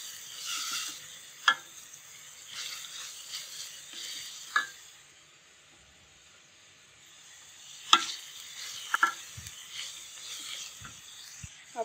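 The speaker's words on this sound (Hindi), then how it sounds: "पहले इनको अच्छे से मिक्स करेंगे। हल्के से बस" Ingredients being mixed and lightly sautéed in a pan for homemade rolls: soft, intermittent stirring scrapes and clinks with faint sizzling between them, and a quiet pause midway.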